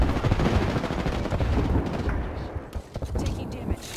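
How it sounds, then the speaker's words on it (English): Bombs explode in the Apex Legends video game amid dense gunfire, a loud continuous barrage of blasts and rattling shots with a voice speaking over the chaos. "Those are bombs."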